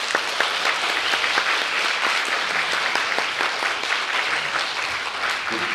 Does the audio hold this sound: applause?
yes